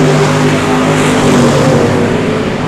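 Race cars roar loudly and continuously around the I-37 Speedway oval, several engines overlapping in a dense, sustained drone without any talk.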